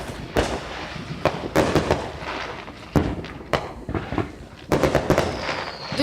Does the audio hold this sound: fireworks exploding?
yes